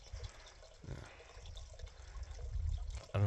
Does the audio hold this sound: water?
yes